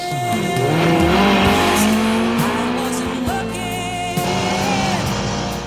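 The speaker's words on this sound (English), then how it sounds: "the primal roar in the Esprit going a long way to create the outstanding sense of speed and tension that we get during this chase" Lotus Esprit engine roaring through a James Bond car chase, loud and continuous with shifting pitch, tire squeals and skidding mixed in over a busy backdrop.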